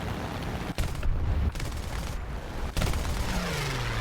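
He-112 B-1/U2 aircraft cannons fire in a War Thunder air battle, a loud continuous stream of gunfire with a couple of brief gaps.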